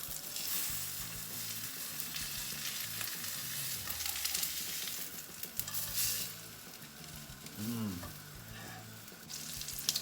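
Pistachio and wasabi crusted ahi tuna frying in a pan, a steady close sizzle with occasional stirring and clinks, no speech.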